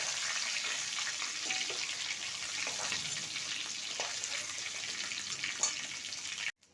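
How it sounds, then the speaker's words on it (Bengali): Whole spices (green cardamom, cinnamon and cloves) frying in hot mustard oil for an egg chicken korai bhuna, giving a steady, close, bright sizzle that stays even throughout with a few small crackles and no talk. "এবার এই তেলেতে দিয়ে দিলাম গরম মশলা, ছোটো এলাচ, দারচিনি, লবঙ্গ।"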